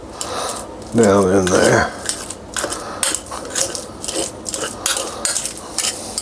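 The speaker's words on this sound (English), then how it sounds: "I'm just going to squash that banana pretty good. Just going to squash that in my bowl" A fork squashes banana in a bowl, with repeated clinking and scraping of metal against the dish in irregular strokes and a short bit of speech near the start.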